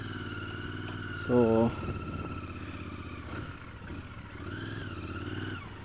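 A motorcycle ridden on a road at night, its steady engine drone running throughout with a brief louder rise near the start, while someone talks over it.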